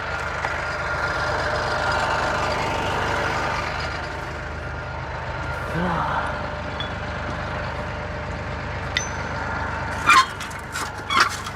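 Ford tractor engine idling: a steady low mechanical drone holding even for most of the stretch, then a few sharp clanks near the end, with no voices.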